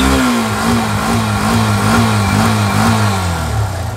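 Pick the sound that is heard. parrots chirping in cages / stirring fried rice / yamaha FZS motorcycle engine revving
yamaha FZS motorcycle engine revving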